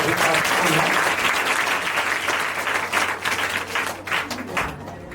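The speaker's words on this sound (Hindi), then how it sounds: "एक बार सर के लिए फिर से जोरदार तालियां बजा दीजिएगा" Audience applause fills the room after a motivational speech to students, dense and sustained clapping from a large crowd that gradually thins toward the end.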